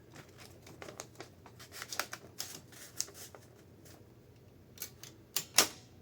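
A 1917 Corona 3 folding typewriter is typed on up close, its keys striking in irregular clusters of sharp clacks, with a few louder snaps toward the end.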